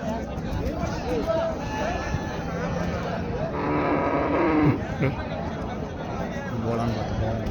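Buffalo moo at the Karungalpalayam livestock market in Erode over steady crowd babble, with people talking nearby throughout. One long, loud low call stands out midway.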